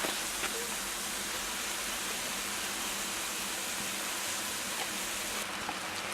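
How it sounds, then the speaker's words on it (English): Mushrooms sizzling in a hot, crowded pan after being stirred in with tongs, a steady close hiss of frying with no talk. "Once that starts sizzling,"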